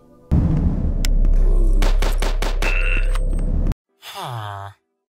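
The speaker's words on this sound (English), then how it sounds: "I was very shocked to hear how crispy and realistic each gun sounds." Boomer shooter video game gunfire: a loud, sustained burst of crisp rapid shots with rumbling low end, then a short pause and a groaning death grunt from an enemy soldier.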